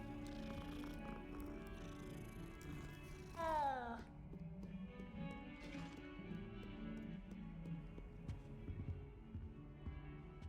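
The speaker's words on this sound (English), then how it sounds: "Cat." A cat in the Hogwarts Legacy video game gives a single rising, drawn-out meow mid-clip, set against a steady bed of in-game music and ambience.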